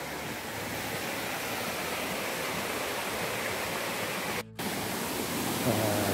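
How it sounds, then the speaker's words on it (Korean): A clean mountain valley stream rushes in a steady broadband roar close by, its flow continuous with only a momentary dip near the end. "이런 계곡, 이런 물살이 계속 쭉쭉쭉 쭉 이어져 있어요"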